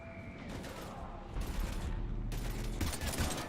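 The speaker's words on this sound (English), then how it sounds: "We're taking heavy fire." Heavy gunfire erupts in Mass Effect combat against Husks, with sustained bursts and booming impacts that swell in loud waves over a rumbling, noisy battle backdrop.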